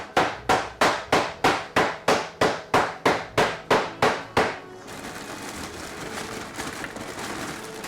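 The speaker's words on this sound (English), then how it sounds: "this is the type of hammer they use" A candy-making hammer strikes about a dozen times in a steady, even rhythm, each blow a loud, sharp crack that rings briefly, then the blows stop and a low, muffled kitchen clatter continues.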